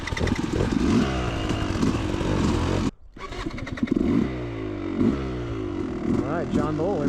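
A Yamaha YZ250 two-stroke dirt bike with electric start runs close by, its engine revving and bouncing through the gears, briefly cutting out and then picking up again with rising and falling pitch sweeps.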